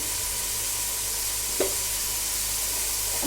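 Spices including cardamom and cinnamon frying in oil for pulao, a steady, even sizzle heard close up with one brief clink of a spoon midway, and no talking.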